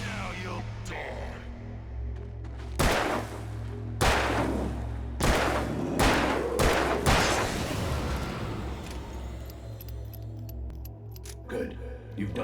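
Gunshots in the video game Alan Wake: several loud, sharp reports spaced a second or so apart, each with a short echoing tail over a low ambient drone.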